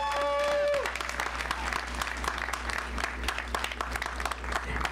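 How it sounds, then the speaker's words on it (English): Graduates at a 2021 Explorations Academy high school graduation ceremony applaud steadily for about four seconds, a dense wash of clapping that follows a brief tonal sound at the start and continues evenly to the end. "Give yourselves a round of applause."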